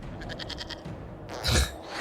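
Goat bleats from the video game Dragon Age: Inquisition, a quick series of short pulsing cries followed by a louder, harsher bleat near the end, heard alone without speech.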